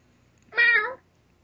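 A house cat lets out one short, clear meow, close and isolated against a quiet background.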